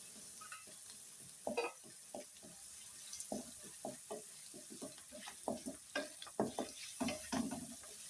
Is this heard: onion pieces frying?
yes